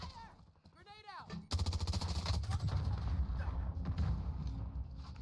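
Rapid gunfire from the OTs-9 in a team shooter video game breaks out suddenly and continues as loud, dense bursts of shots after a voice briefly speaks.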